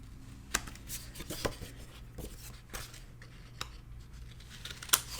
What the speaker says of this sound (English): And then we're just going to trim the corners on this flap.